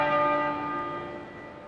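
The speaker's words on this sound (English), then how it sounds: "the tenor bell tolled 101 times" The tenor bell of Westminster Abbey tolls at the Queen Mother's funeral, a single loud, rich strike whose ringing tone decays slowly over a couple of seconds.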